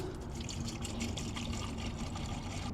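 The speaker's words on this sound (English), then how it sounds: "So we're just gonna pour this in here." Wheel and tire cleaning mixture is poured into a foamer, making a steady splashing, gurgling rush of liquid throughout, close by with no talk.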